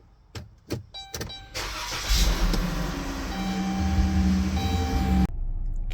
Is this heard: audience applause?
no